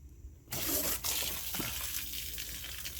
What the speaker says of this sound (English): it's gonna squirt, so make sure you don't get wet